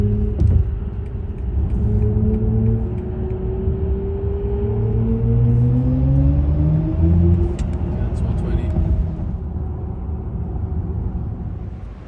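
BMW iX 50 electric car accelerating inside a tunnel, a loud steady rumbling drone with rising tonal whine sweeping upward over about ten seconds, continuous and close throughout.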